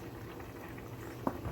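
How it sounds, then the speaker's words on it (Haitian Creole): Water bubbles at a low, steady simmer in a pot being heated for cornmeal, with one brief louder pop near the end and no talking. "Nous regardons là, de l'eau a bouilli."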